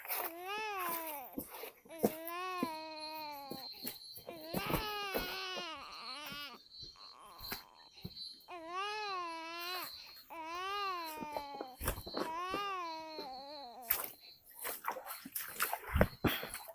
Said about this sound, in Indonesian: Oh, ini bayi.